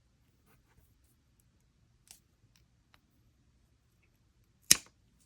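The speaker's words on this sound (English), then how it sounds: "Then I'm going to come in with my scissors" Scissors snip off excess jewelry cord on a barrel knot choker, one sharp, close cut standing alone in a quiet room, with a couple of faint, small handling clicks before it.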